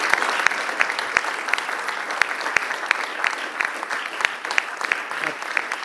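An audience claps at an award ceremony for a 2025 cycling barometer prize, a dense steady round of applause with sharp individual claps standing out, sustained throughout.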